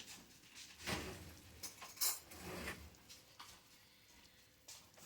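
Metal cutlery clinks faintly a few times in a home kitchen while slow-cooker beef tips and gravy are being finished, with a soft rattle of dishes and quiet room noise around it.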